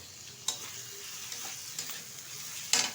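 Chopped tomato goes into ginger, garlic and onion already frying in oil, producing a soft, faint sizzle with a few sharp scrapes and taps from stirring.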